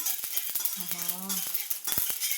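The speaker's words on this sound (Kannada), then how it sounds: "ಸಾಸಿವೆ ಸೌಂಡ್ ಬರ್ತಾ ಇದೆಯಾ?" Mustard seeds splutter in hot oil while cooking Coorg pork masala, a rapid run of sharp pops and crackles over a steady sizzle, close, with a brief hum of a voice partway through.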